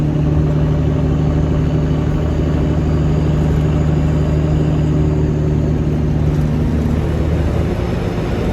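Freight hauler truck engine braking with a Jake brake on a highway near Amarillo, a loud steady low rumbling drone that holds for about seven seconds and then eases off, heard close from inside a following truck cab.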